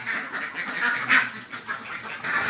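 Several ducks, including brown Khaki Campbell laying ducks, quack and honk continuously at close range in a busy, overlapping chorus, with no talking.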